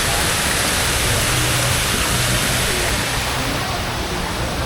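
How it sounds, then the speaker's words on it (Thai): A waterfall in Central Park sends out a constant, dense rushing roar of falling water, loud and unbroken throughout. "นี่น้ำตก"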